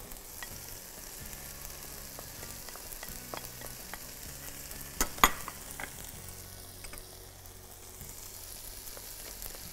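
Chopped onion and garlic frying in a pan while chicken and mushroom cannelloni filling is prepared, a steady soft sizzle with faint stirring scrapes and one brief sharper clatter midway, no voices.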